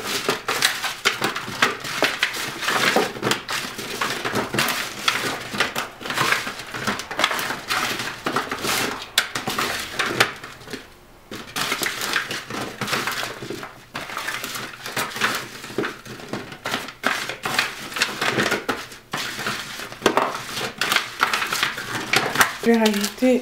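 Sweet potato and ginger being mixed together in a dish, with repeated close crunchy scraping and squelching strokes in an uneven rhythm, a voice talking over parts of it.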